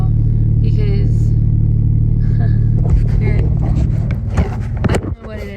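A truck engine gives off a steady low hum from inside the cab, loud and constant, with someone speaking over it toward the end.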